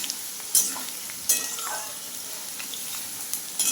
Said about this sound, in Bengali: আলু ভাজা প্রায় হয়ে এসেছে দেখি একেবারে লাল লাল হয়ে এসেছে